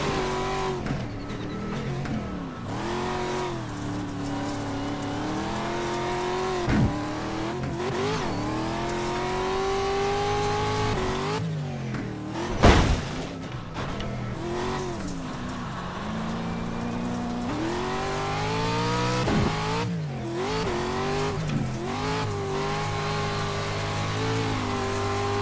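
NASCAR race trucks in a racing video game at Michigan roar continuously, engines revving up and down through gear changes with a brief sharp burst midway, loud and sustained with no voices.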